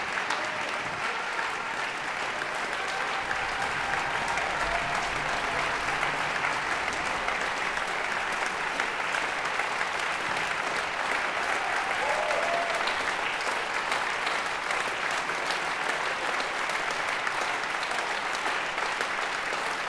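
A concert hall audience claps steadily and densely through the whole stretch after the chamber music final of a Beethoven piano trio competition, a loud, even wash of applause with no letup.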